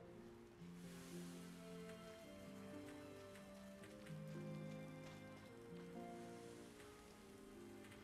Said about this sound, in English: Am I still in the rain?